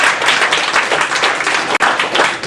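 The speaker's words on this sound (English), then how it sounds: "So a round of applause to David." Sustained applause from an audience at a stand-up comedy show, dense steady clapping that carries on unbroken apart from one momentary gap near the end.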